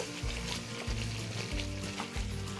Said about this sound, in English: I'm going to go ahead and I'm going to drop those onions